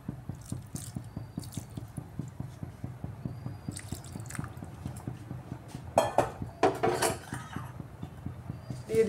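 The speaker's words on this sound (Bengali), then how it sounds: "আমি আরেকটু জল দিয়ে দিচ্ছি" Water is added to an omelette curry simmering in a pan, giving a fast, even patter of bubbling ticks, followed by a few louder splashy clatters near the end, with no talking.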